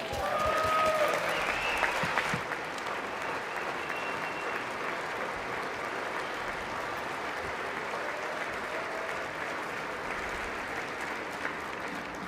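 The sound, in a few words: applause in Congress during State of the Union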